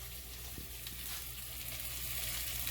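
Tuna steak searing in a hot pan gives a steady, close hiss of sizzling that holds evenly throughout, with a faint low hum beneath and no voices.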